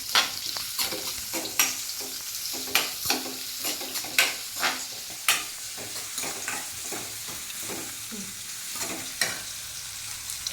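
Onions for vermicelli upma fry in a pan with a steady crackling sizzle, broken by repeated sharp scrapes and taps of a spoon stirring them, with no talk.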